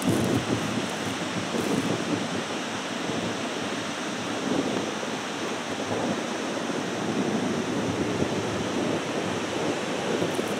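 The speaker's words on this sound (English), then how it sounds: "you can just sit here all day and watch the ocean waves." Ocean waves wash steadily onto a beach of thick, clean sand, a continuous broad surf roar with light wind and no voices.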